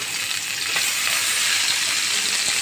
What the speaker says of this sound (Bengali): তার ওই তেলে আমি কিছু পেঁয়াজ কুচি দিয়ে দেবো।